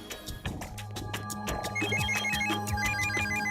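A telephone rings with an incoming call in a repeating electronic tone pattern that grows steadier, heard fairly clearly over a soft background, with no speech.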